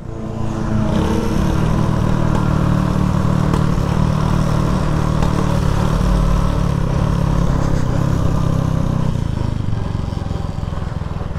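A Shineray motorcycle rides along in gear, its engine droning loudly and steadily up close with a constant low rumble and faint wind noise.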